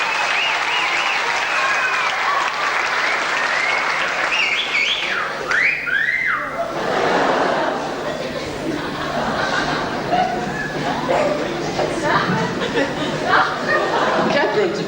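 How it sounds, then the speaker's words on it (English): A school Year 12 farewell crowd applauds a contestant with loud, sustained clapping mixed with chatter, chuckles, laughter and a whistle, the noise rising and churning throughout. "Big round of applause to Catherine."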